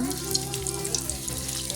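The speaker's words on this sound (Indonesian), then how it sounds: "Lalu goreng nugget yang sudah kita buat tadi." Homemade chicken nuggets sizzle in hot oil, a close, continuous hiss with scattered little crackles and pops.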